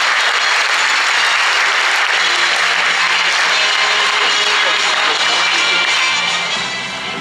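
Loud, close applause fills the room at the Miss Côte d'Or 2018 pageant, a thick wash of many hands clapping continuously before easing off slightly at the very end.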